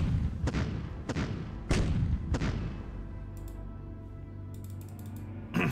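Bombing and artillery fire in the World War II strategy game Decisive Campaigns, Ardennes Offensive: four sharp explosive impacts in quick succession over a steady background rumble, followed by faint clicking interface sounds.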